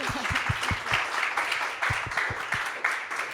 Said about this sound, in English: And I'll give you a round of applause.